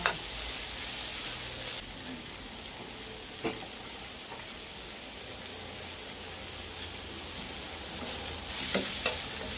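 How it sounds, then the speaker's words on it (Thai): Lemongrass and kaffir lime leaves stir-frying for a Thai chicken curry, a steady broad sizzle with occasional scrapes of the spoon against the pan, close and continuous with no one speaking. "ผัดก่อนครับผัดก่อนเคี่ยวให้หอม"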